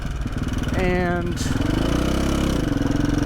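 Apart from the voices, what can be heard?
KTM 450 dirt bike engine idling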